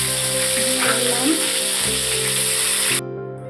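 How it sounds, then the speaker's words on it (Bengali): Minced ginger and green chilli fry in a pan of hot oil, a loud, continuous close sizzle with a faint stirring scrape, cutting off abruptly near the end. "দেখো আদা লঙ্কাটা ভালো করে ভাজা হয়ে গেছে।"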